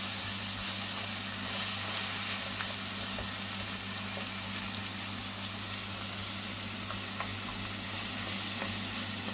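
Red and green peppers sizzle steadily in a hot pan, a dense, even frying hiss with faint crackles and a low hum underneath, close and uninterrupted without speech.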